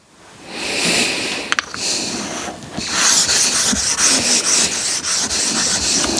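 A knife blade scrapes in long, gritty strokes across a 6000 grit stone on a Tormek T8 sharpener, close and fairly loud, with a couple of sharp clicks between passes.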